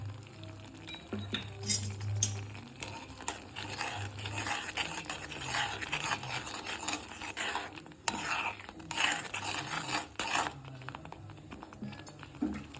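Saffron water being stirred into kesaribath in a pot, with repeated clinks and scrapes of a spoon against metal over a soft sizzle, steady and close, with no one talking.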